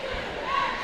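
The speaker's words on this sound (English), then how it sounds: "Cheerleaders are definitely cheering loud for defense." Cheerleaders cheer loudly for defense at a high school girls' basketball game, a steady crowd roar in the gym with a brief sustained shout rising near the end.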